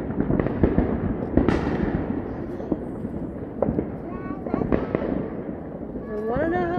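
Fourth of July fireworks burst repeatedly in sharp, irregular cracks and booms at middle distance, with people talking over the blasts.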